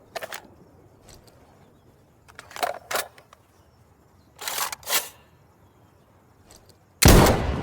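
Weapon reloading in the video game Insurgency Sandstorm: a few sharp mechanical clicks and metallic clacks in short clusters, close and alone, ending in a loud burst of noise.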